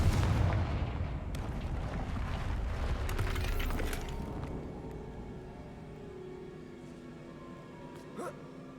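Spell blasts from the Bombarda and Confringo curses in Hogwarts Legacy boom out as a loud, rumbling explosion that slowly decays into echoing debris and lower rumble, followed by a small late thud.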